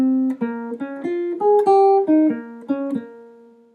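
Single guitar notes played one at a time in fifth position, a slow sequence of about nine clean plucked tones rising and falling, each ringing briefly before the next, close and alone with no talking.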